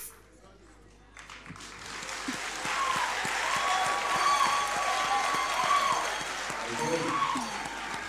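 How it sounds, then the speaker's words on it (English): Audience applause at the Ghana's Most Beautiful 2018 pageant show, a dense wash of clapping that swells from about one second in and holds steady and loud, with cheering voices mixed in throughout. "A round of applause for all of them."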